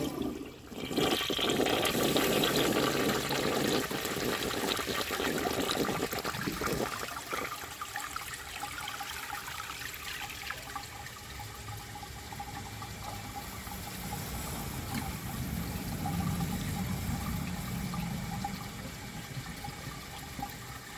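A 1951 Standard Cadet toilet flushes disposable rags with a loud, close rush of water that eases after several seconds into a long trickle and refill, with no talking.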